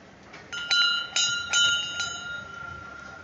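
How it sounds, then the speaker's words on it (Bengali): A small temple bell rings in several sharp strikes, about four clangs in quick succession with a bright, lingering metallic ring fading out. "আমি যে ঘন্টাটা বাজালাম দেখুন"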